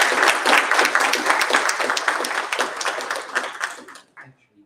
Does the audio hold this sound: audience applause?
yes